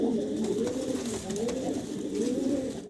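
Pigeons kept for sale, including red bar and blue bar birds, coo close by in a continuous, rolling, low warble that fills the whole stretch.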